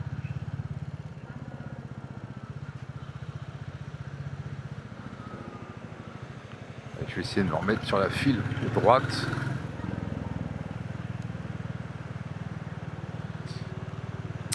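A Royal Enfield Bullet 350 motorcycle rides through Singapore traffic, its low steady engine thrum running throughout, with a louder burst of revving and passing vehicles midway while someone talks over it.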